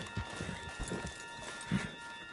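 Horse hooves clip-clop in a quiet, uneven rhythm in Red Dead Redemption 2, a few soft hoofbeats over a faint steady electronic hum.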